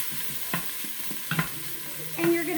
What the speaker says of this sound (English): You can hear the sizzling.